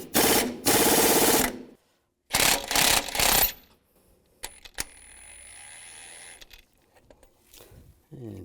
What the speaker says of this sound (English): take this bolt out with an impact gun